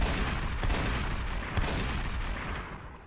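Gunfire in the Roblox game Prison Life, two heavy booming shots about a second apart over a dense rumbling game soundscape that slowly fades.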